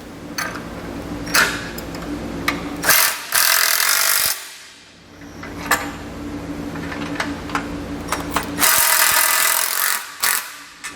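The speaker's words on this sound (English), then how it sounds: "we can tighten and torque down all of our hardware" Mounting hardware on a Thule TracRac SR sliding truck bed ladder rack is tightened with a power tool: several loud, close bursts of whirring and ratcheting, separated by pauses with faint ticks and handling clatter, no talking.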